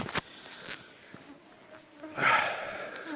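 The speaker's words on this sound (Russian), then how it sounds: "Комарья здесь." Mosquitoes whine around a riverside fishing camp in Yakutia, a thin buzzing that swells close by near the end over faint background rustle, with no one speaking.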